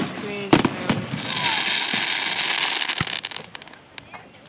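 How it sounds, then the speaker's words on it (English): Fireworks display at Quail Springs, with sharp bangs and a dense crackling burst that swells and fades over several seconds, heard at moderate distance while voices murmur in the background. "thank you, God, for this beautiful display"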